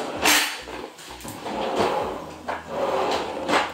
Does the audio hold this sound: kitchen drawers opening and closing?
yes